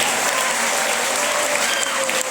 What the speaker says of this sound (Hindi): एक बार फिर से जोरदार तालियां सकते हैं।